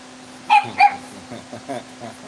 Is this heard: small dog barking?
yes